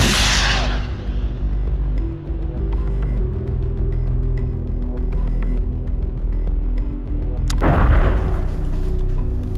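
An NLAW rocket launch in Arma 3 opens with a heavy boom, then a low rumbling drone, and ends with a second sharp, loud blast near the end.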